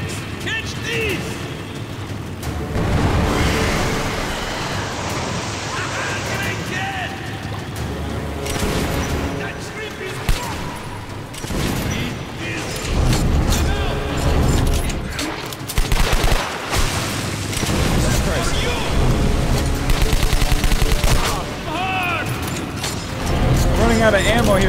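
Sustained video game gunfire from Metro Last Light, loud rattling bursts and booms running almost continuously, with someone talking over the shooting.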